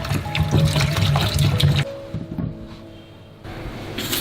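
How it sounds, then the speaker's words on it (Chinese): Small potatoes being washed in clean water: close, busy splashing and sloshing for a couple of seconds, then softer trickling and dripping before the splashing picks up again. "用清水洗去表面的泥沙"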